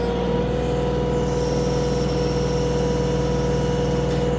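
Kioti DK4210SE HST tractor engine running steadily at about 2,000 RPM, a little over half throttle, during backhoe work; a loud, constant low drone with a steady hum and no talk.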